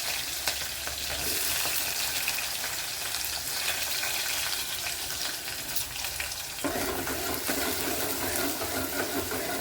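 Onions, shallots, garlic and green chilli sauté in oil with mustard seeds and fenugreek for a fish curry, giving a loud, continuous close sizzle with stirring that brightens briefly near the end.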